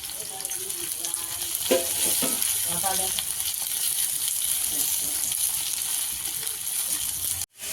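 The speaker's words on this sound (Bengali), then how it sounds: "পেঁয়াজগুলোকে লাল লাল করে ভাজা হবে" Onions frying in oil in a pan for a bhetki fish-bone dish, a continuous dense sizzle with occasional stirring clatter throughout.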